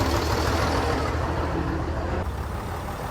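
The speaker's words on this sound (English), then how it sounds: "There are buses and coaches from many years right up to fairly modern coming through here today." A classic bus rolls past at a gathering of vintage buses and coaches, a loud, continuous engine rumble and road noise close by that eases slightly toward the end.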